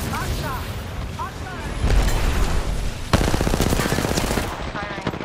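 Video game gunfire crackles in steady automatic bursts beneath overlapping game voices, growing heavier and denser midway with loud rapid-fire volleys.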